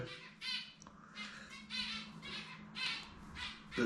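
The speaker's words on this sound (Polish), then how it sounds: "Mam nadzieję, że ptaki Wam nie przeszkadzają specjalnie, bo mam tu zeberki w domu." Pet zebra finches chirping indoors, a quick series of short, faint nasal squeaky calls repeating in irregular bursts against a quiet room.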